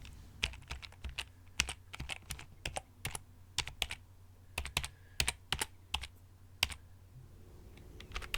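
Fingers type on a computer keyboard in irregular bursts of crisp, close clicks and key taps, with brief pauses between clusters in a quiet room.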